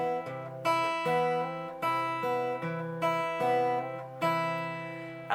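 Acoustic guitar fingerpicking a phrase, with a steady alternating thumb bass under ringing melody notes, played close and clear with no talking.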